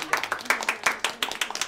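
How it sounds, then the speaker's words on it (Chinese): A small group of people claps for a couple in a family drama scene: brisk, uneven hand claps close by at moderate volume, with no talk over them. "我建议我们大家给他们俩鼓鼓掌"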